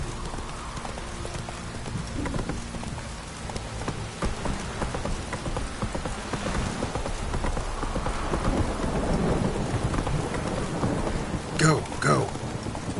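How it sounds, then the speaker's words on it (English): Heavy downpour and thunder in the video game The Witcher 3, a constant roar of rain with low rumbling thunder and hoofbeats of a horse, plus a few brief sharp sounds near the end. "This downpour's a bastard"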